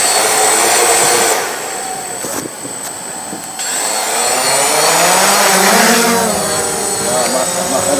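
Drone motors throttle up into a loud, high whirring whine that dips briefly, then rises and swells in pitch as the rotors spin faster. Speech is heard under the motor noise.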